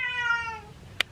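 A single cat meows alone, a rising-and-falling harmonic call of just under a second, followed by a brief sharp click.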